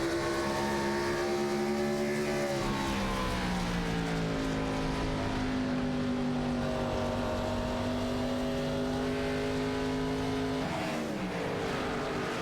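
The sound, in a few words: race cars racing in a sim racing game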